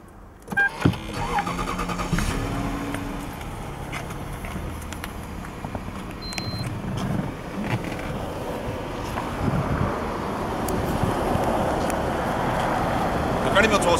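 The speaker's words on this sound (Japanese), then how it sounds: "エンジンをかけてみます。" A Toyota Crown Majesta 4.3 C-type, late model with aftermarket aero, cranks over and settles into idle after a brief click and start, followed by a steady low engine hum with some wind buffeting and handling noise.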